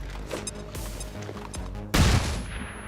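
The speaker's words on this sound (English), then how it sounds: "I'm pretty sure I can hit him with a flashbang." Flashbang grenade detonating in the video game XCOM 2: a sudden loud, broadband bang erupts about two seconds in over background game sounds, then fades into a lingering hiss.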